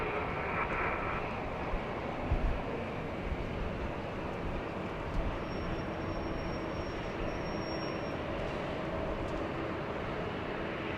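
A Boeing 747 freighter passes at a large airport, a broad steady jet roar heard from a distance that holds evenly throughout, with a faint high whine near the middle.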